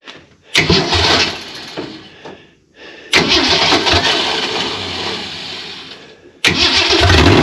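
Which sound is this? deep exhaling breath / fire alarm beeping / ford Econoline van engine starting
ford Econoline van engine starting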